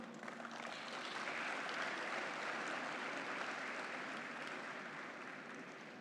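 An audience at a university talk claps in a soft, even wash of applause that lasts several seconds. It sounds faint and somewhat distant, with no one speaking over it.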